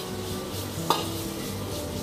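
Stir-frying in a seasoned wok in a training kitchen, a soft steady sizzle with one sharp clink of a utensil against the pan midway.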